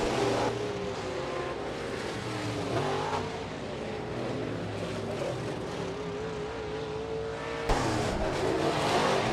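B-Mod race cars roar around the dirt oval at Rapid Speedway during a heat race, a dense, loud, continuous engine drone with shifting revs and pitch from several cars at once.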